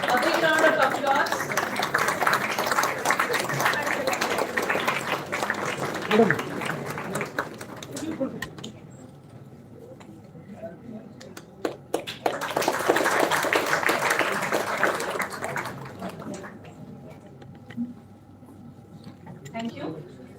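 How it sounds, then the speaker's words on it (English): A crowd at an International Women's Day celebration claps in a sustained round of applause that fades, then swells again briefly before dying out, with a voice heard between. "A big round of applause."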